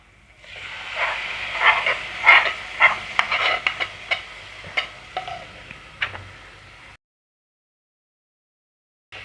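Ground masala paste for soya chunk gravy sautéing in a pan: a soft sizzle under irregular clicks and scrapes of stirring, close by, then falling abruptly silent near the end.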